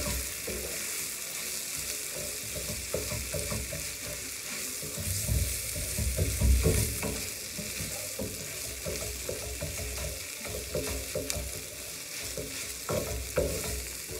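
Stuffed fried dough cooking in hot oil, a continuous close bubbling sizzle with occasional stirring and scraping sounds, steady throughout with no talk.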